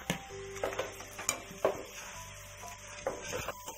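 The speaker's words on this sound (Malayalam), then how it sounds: "സബോള നന്നായി ഫ്രൈ ആയിട്ടുണ്ടെങ്കിൽ നമുക്ക് വറുത്ത് കോരി വെച്ചിരിക്കുന്ന ചിക്കൻ ഇട്ടിട്ട് ഒന്ന് മിക്സ് ചെയ്ത് കൊടുക്കാം" Fried chicken pieces stirred with fried onions in a pan, a spoon scraping and clinking against the metal in irregular strokes over a soft, quiet sizzle, close by with no voices.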